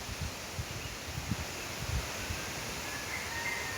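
Strong morning wind under a cloudy sky shaking tree branches, a steady airy rush with soft rustling and low gusty thumps against the microphone, continuous and moderately loud.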